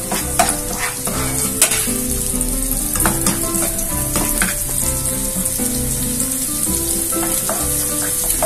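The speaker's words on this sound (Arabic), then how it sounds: "لهيك بننطر شوي بس حتى تدبل البصله، وعاد بنضيف الثوم فوقيتها" Onion and garlic fry loudly in a pan, a dense, constant close sizzle with occasional stirring scrapes and light clinks, no talking.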